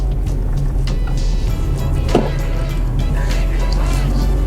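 A Suzuki S-Presso on a test drive, heard from inside the cabin as the driver speeds up, gives a steady, loud engine and road drone for the whole stretch.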